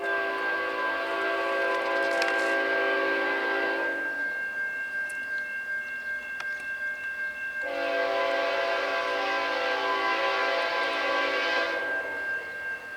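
A CN freight train led by a GE Evolution-series Tier 4 locomotive rolls past a gate-dropped crossing at Ladysmith, Wisconsin, its horn sounding loud and steady in two long blasts over continuous rail rumble.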